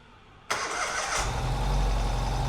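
A 2022 Ural Gear Up motorcycle engine cranks briefly then catches and settles into a steady, loud running rumble, close by.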